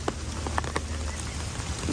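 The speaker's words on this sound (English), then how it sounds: "Because it's raining." Rain falling outdoors as a steady, soft patter of drops with a low background rumble, a few louder individual drips standing out, no talking.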